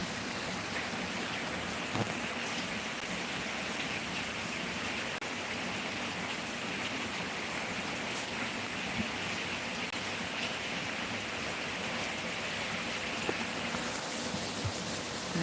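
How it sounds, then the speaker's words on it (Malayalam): Steady rain that has eased slightly after a heavy downpour with wind, an even, continuous hiss with faint scattered drips, no voices. "നല്ല ഒന്നൊന്നര മഴ കാറ്റും പോരാത്തിന് അപ്പോൾ കുറച്ചൊക്കെ ഒന്ന് കുറഞ്ഞു കേട്ടോ"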